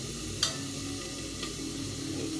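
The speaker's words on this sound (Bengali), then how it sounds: "আলু কোয়াশটা সুন্দরভাবে ভাজা হয়ে গেছে" Squash and potato pieces fry in a pan with soaked spices and salt, a soft steady sizzle broken by a couple of light stirring clicks.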